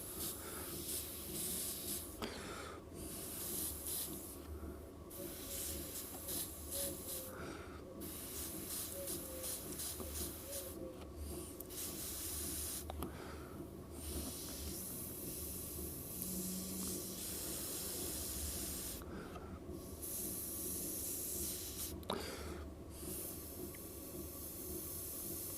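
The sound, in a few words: airbrush spraying paint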